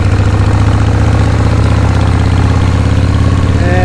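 A 1980 Harley-Davidson FXEF Shovelhead motorcycle idles close by, its loud, low, lumpy engine pulsing in a steady uneven rhythm throughout with no voices.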